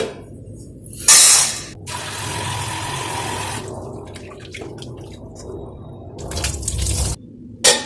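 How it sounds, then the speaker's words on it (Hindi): Sago pearls (sabudana) being washed in a kitchen: running water, splashing and swishing in a bowl, with a louder gush of water near the start and again at the end. "अब इसको धो के हम रख देंगे 1 घंटे भिगोने।"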